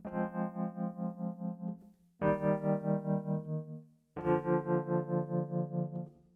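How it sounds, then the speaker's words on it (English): Sustained chords on a Westwood Instruments electric home piano with a pulsing, wavering vibrato effect, three held chords in a row, each fading before the next begins. "you can even adjust the vibrato of the piano right down here."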